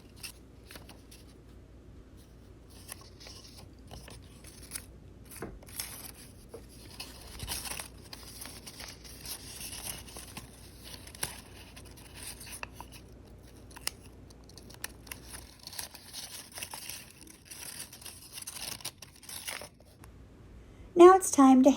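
Paper strips snipped, rustled and crinkled close up, with quiet scissor cuts and tape handling being joined into a paper chain. The sounds are soft and sporadic, and a brief louder noise comes near the end.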